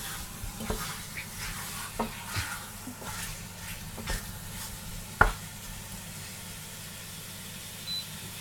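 Beef and carrots cooking in a pan over raised heat, a soft steady sizzle with scattered stirring scrapes and clicks, one sharper knock near the middle, no talking.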